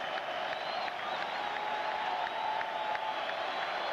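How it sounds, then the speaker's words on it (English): Mets fans in a baseball stadium crowd cheer and clap, a dense steady roar heard at a distance. "The Mets fans in the crowd rise to the occasion."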